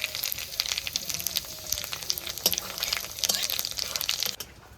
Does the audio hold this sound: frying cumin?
yes